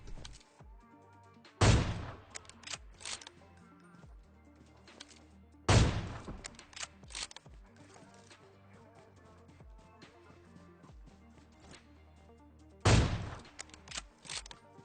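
Gunfire in a battle royale video game comes as three loud, sharp bursts spaced several seconds apart, with quieter scattered shots and clatter between them.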